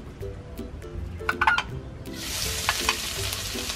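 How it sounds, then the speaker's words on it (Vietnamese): Minced lemongrass hits hot cooking oil in a pan, breaking into a soft, growing sizzle after a few light scraping and clinking sounds, fairly quiet and close. "Khi dầu đã bắt đầu nóng, các bạn cho 1/2 sả băm vào."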